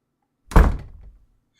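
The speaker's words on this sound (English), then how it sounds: "Shut the door, would you?" An office door swings shut with a single loud, close, solid thunk, followed by a short low rattle as it settles, then silence.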